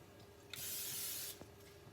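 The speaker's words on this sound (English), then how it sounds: "Then you spray your pan." A single short burst of cooking spray hissing from a can onto a pan before pancake batter goes in, close by, lasting under a second amid quiet surroundings.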